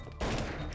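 A single loud, abrupt super shotgun blast in the Anglerfish game, a brief broad burst that fills the moment.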